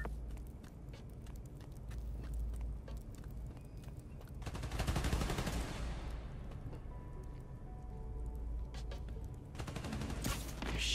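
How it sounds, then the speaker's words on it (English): Rapid automatic gunfire rattles continuously in the Spider-Man: Miles Morales video game as enemies shoot at power station transformers, swelling into a louder burst midway over a steady low rumble, with no voices. "They're shooting transformers?"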